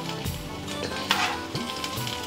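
Stuffed green chillies sizzle and fry steadily in a pan, a continuous close crackle with brief stirring scrapes and a louder burst of hiss midway, no voices.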